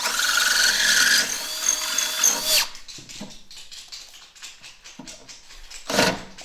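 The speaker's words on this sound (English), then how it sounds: "I'm going to go ahead and drill these 2 holes." A power drill whines loudly for a few seconds drilling holes to mount a bumper on a 2023 Ski-Doo Expedition SE 900 ACE snowmobile, then stops, leaving scattered clatter and handling noises, with a brief second burst near the end.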